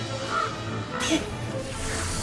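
Crows cawing in the video game MediEvil, a couple of short harsh calls over a murky game ambience.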